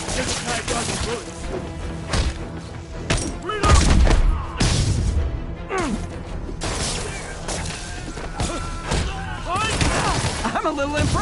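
Gunfire in the Marvel's Spider-Man video game crackles in dense bursts amid crashes and booms, loud and continuous, with game characters shouting over the action.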